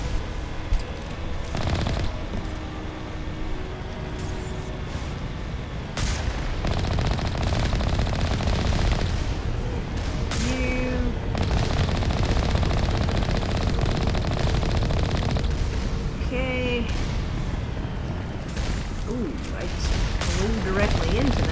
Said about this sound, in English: And there's a lot of turrets.